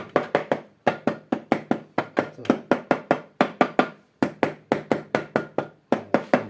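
Repeated sharp taps seat an engine cover into place on a walk-behind cultivator. The knocks come close and crisp in quick bursts of three to five, separated by short pauses.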